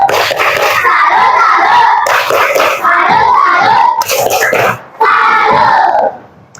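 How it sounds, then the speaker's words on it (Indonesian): Indonesian classroom children chanting and clapping a rhythmic cheer together in loud bursts, crowd-like voices with hand claps in repeating phrases, pausing briefly between rounds. "Tepuk tangan dulu semuanya."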